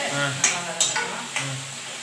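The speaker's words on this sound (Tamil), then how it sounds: "இப்போ தக்காளி நல்லா வதக்கணும்" Tomatoes sautéed in a pan make a few scraping spatula strokes over a low sizzle, with a voice briefly talking underneath.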